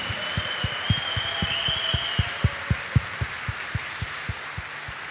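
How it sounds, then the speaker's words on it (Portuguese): A church congregation claps together at Sunday Mass, a steady rhythmic beat of strong unison claps over a soft background hum. "Dá para reagir com uma salva de palmas bem forte?"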